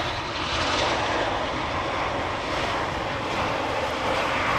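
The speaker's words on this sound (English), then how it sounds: "We've got an Embraer 190 from KLM arriving from Prague in the Czech Republic" A KLM Embraer 190 airliner from Prague arrives at Amsterdam Schiphol Airport, its broad steady engine roar loud and continuous throughout with no voices.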